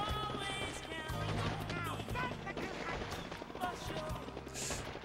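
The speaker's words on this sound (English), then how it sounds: "dodging all of the bullets here on the bridge" Rapid video-game gunfire on a bridge crackles in repeated bursts, with bullets snapping and clattering around, under a busy mix of other game sounds.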